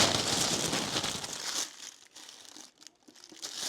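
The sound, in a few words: tissue paper crinkling while unwrapping a package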